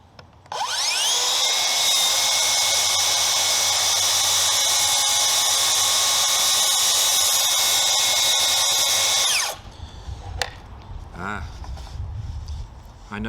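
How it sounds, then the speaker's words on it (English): A Makita 36V cordless rail saw cuts with a loud, high, steady whine for about nine seconds, then its blade brakes to a quick stop. Soft handling clatter and a voice follow once it is quiet. "The blade stops spinning really quickly when I release the trigger."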